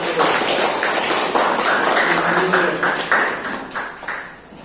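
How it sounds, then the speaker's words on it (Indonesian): Classroom applause for the first student group during a school lesson, a dense patter of many hands clapping fairly close and steady throughout, fading slightly at the end. "beri tepuk tangan ke kelompok 1"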